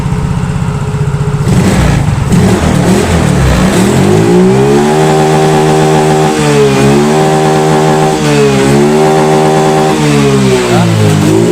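A Yamaha Mio Soul GT scooter engine, one with a fault that makes it stall suddenly, idles roughly and is then revved repeatedly, loud and close, with the pitch rising and dipping in several throttle blips over a steady buzzing running note.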